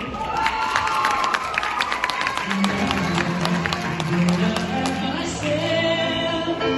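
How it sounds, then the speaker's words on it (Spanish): A crowd claps and cheers for a girls' jazz dance group after their choreography. The applause and shouts are loud and lively, and music begins to swell underneath toward the end. "¡Fuerte el aplauso!"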